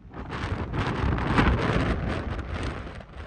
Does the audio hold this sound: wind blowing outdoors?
yes